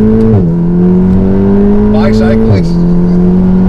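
A Stage 3 tuned Volkswagen Golf R with 522 bhp accelerates hard from inside the cabin, its loud engine drone rising steadily through gears with brief drops at the shifts while people talk over it.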